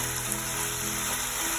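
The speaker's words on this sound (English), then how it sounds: "make sure when you are frying them, all the juices are dried." Chicken pieces frying in a pan for a Thai-style soup, a steady close sizzle with fine crackling over a constant stovetop hiss, no talking.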